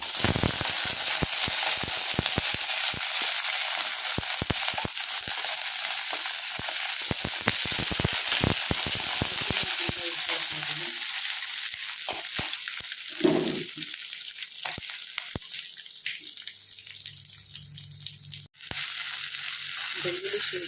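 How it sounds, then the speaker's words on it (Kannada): Green chillies, cinnamon and cloves fry in hot oil for vegetable pulao, a loud steady sizzle close up that later softens, with stirring and a brief water sound. "ಈಗ ಫ್ರೈ ಮಾಡ್ಕೊಳ್ಳೋಣ ಚೆನ್ನಾಗಿ ಫ್ರೈ ಮಾಡ್ಕೊಳ್ಳೋಣ"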